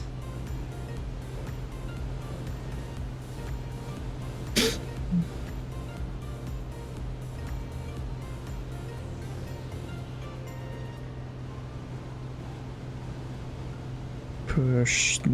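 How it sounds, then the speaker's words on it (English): A light aircraft engine holds at idle throttle during approach, in a plane with a constant-speed prop and retractable gear: a steady low drone runs throughout, with a couple of brief louder noises over it. "I'm back with the engine sound."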